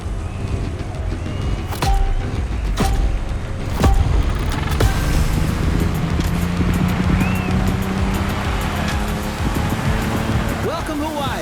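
Racing boats roar across open ocean water off Hawaii in The Crew Motorfest, engine drone mixed with surf wash and wind, with several sharp splashes or impacts, and a voice talking over it.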